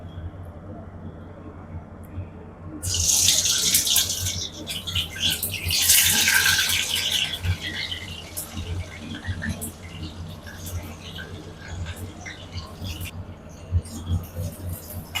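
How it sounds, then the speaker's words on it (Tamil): Raw banana pieces drop one by one into hot oil for a Tamil-style fry, setting off a loud bright sizzle that swells for a few seconds and then settles into a steady crackle under a low background hum. "இப்போ எண்ணெய் காஞ்சிருச்சு ஒன்று ஒன்றா போடுவோம்"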